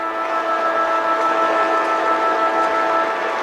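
A loud, sustained siren blares across the Gabba stadium to mark half-time in a Brisbane Lions versus Geelong Cats Australian football match, a steady multi-toned wail holding without a break and with no talk.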